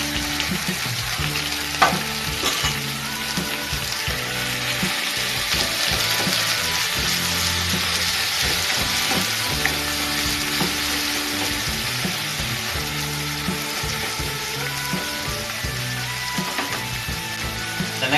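Ground beef sizzling loudly in a pan with browned garlic and translucent onions, a steady dense frying hiss with occasional stirring scrapes throughout.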